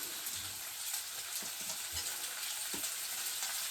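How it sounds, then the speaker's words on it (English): Bacon sizzles lightly in a frying pan, a steady soft crackle and hiss with a few low taps and scrapes underneath, fairly quiet and without talk. "Just a light sizzle, that's all I want just now."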